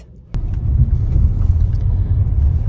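A car drives over a freshly laid asphalt road past ongoing roadworks, its steady low rumble of tires and engine beginning abruptly and then holding constant and close.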